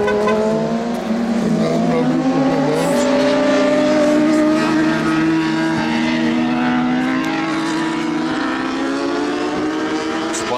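Turbocharged Super Ímpetus car engine revving loudly and driving, with rising and falling harmonic engine tones close by throughout.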